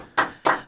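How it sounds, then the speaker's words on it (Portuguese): A couple of sharp, separate hand claps close by, with a third just beginning, at a sports physiotherapy talk show; brief and sparse rather than a full crowd. "Uma salva de palmas, Odílio Souza."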